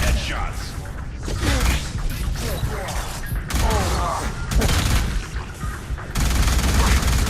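Bursts of rapid gunfire and heavy grenade explosions from the video game Alien Rage repeat over about seven seconds, loud and close, with a voice speaking in between.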